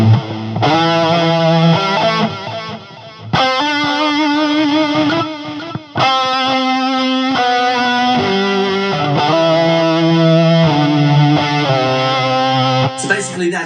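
An electric guitar runs through a HeadRush delay effect with head tilt modulation, its distorted chords and notes ringing loud and sustained, with slightly wavering repeats trailing each phrase and brief gaps between passages.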